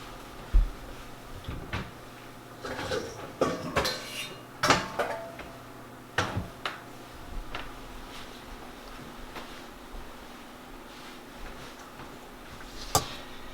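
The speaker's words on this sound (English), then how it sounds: "Now what we're going to do now is wash it. We get all this buttermilk out of it." Churned butter is washed in a bowl to remove the buttermilk, with scattered close clinks and knocks of the bowl and utensils coming in irregular bursts.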